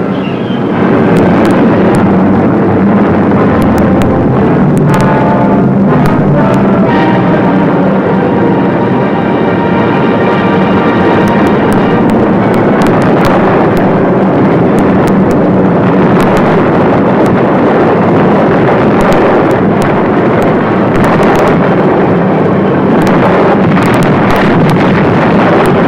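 Heavy anti-aircraft flak from massed guns bursts during a 1944 bombing raid on Romanian oil fields: a loud, continuous roar of aircraft and wind, broken throughout by repeated sharp, thudding explosions.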